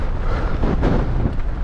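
Strong wind on an open hillside along the Coast to Coast trail, roaring and buffeting the microphone in a loud, continuous rush with no voices.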